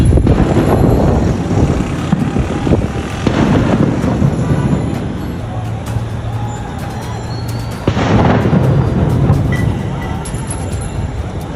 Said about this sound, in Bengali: গুলি চলতেছে তারপর বোম ফুটতেছে